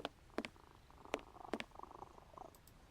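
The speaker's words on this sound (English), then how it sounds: "That cat's actually purring." A cat purring in the Sherlock Holmes vs. Jack the Ripper PC game, a soft continuous low rumble with a few sharp clicks and brief bursts over it.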